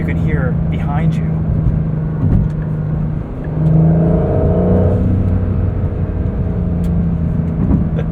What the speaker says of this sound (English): spooling up that turbocharger, which you can hear behind you